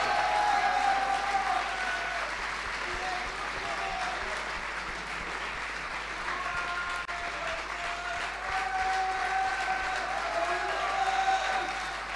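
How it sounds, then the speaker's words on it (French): Audience applause for the finalists at an Ultime Décathlon final, a steady wash of clapping held evenly for about twelve seconds with faint voices and tonal sounds over it. "Vous les applaudir"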